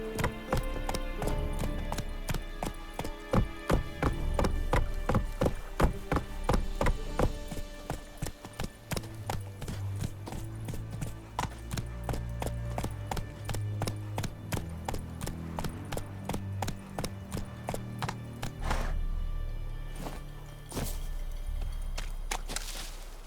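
Roach the horse gallops in The Witcher 3 with a loud, steady rhythmic clip-clop of hooves over game music, the pounding continuing nearly throughout and easing briefly near the end.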